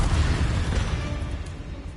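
A Confringo fire spell exploding in the Hogwarts Legacy video game: a deep, rumbling boom with crackling debris that sustains for the whole short stretch.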